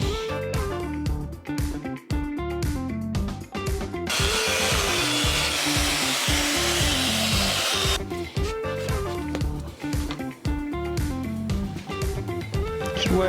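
An oscillating multi-cutter tool cuts during Warhammer hobby work, giving a loud, continuous buzzing rasp with harsh grinding stretches, broken by brief stops and restarts, heard close and without talk.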